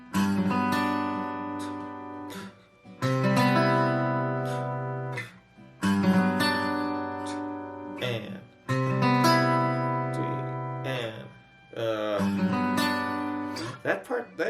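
Acoustic guitar strumming a two-chord intro progression from an anime character theme, repeated about four times in sustained, ringing phrases with short gaps between them, played close and fairly loud with no talking.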